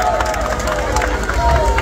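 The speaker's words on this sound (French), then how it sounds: "on va demander un tonnerre d'applaudissements pour Ludo" A comedy-show audience at Anse Mitan applauds and cheers for Ludo, a loud, dense crowd roar with claps and murmured voices running the whole time.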